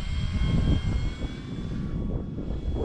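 A Dynam Focke-Wulf 190 RC model airplane flies past with a steady propeller-engine drone, loud at first and then easing slightly as it moves away.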